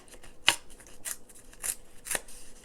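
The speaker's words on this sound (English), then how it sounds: "We can do one where we're going to tear it, because I love this here." Paper torn by hand for a mini album pocket, four short separate rips spaced about half a second apart, close and crisp, with no talking.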